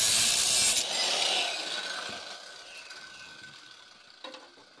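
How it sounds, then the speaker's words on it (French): A piece is cut to length with a loud, rasping cut at the start that fades into softer scraping, followed by a small knock near the end. "On va couper là."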